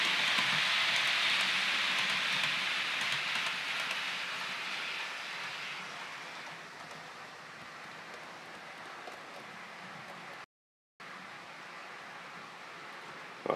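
A class 68 model locomotive runs on a Hornby layout, giving a steady rolling whir and rattle that fades gradually from near to farther away, with a brief dropout near the end.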